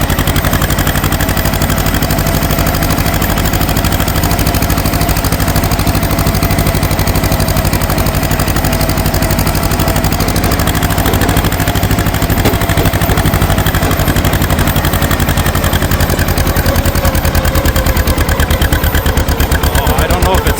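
A 1950 John Deere M tractor engine labors under throttle while climbing a hill, a loud, continuous close-up chugging roar that holds steady throughout.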